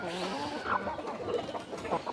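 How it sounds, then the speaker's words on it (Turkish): Chickens cluck softly nearby in short, scattered calls over a steady background hum. "Bak orada bir tavuğumuz daha var."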